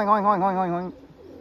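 Pigeons coo in a single close, fairly loud throaty call with a steady wavering pulse. It stops abruptly, leaving quiet low background noise.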